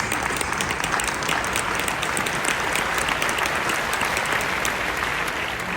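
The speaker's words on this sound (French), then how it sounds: "applaudissons" Sustained, dense applause from an audience at a diving trade show talk in France, steady and full throughout with no voices over it.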